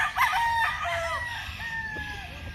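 A gamefowl rooster crows loudly and close by, a long drawn-out call with a few clucks, against steady outdoor background noise.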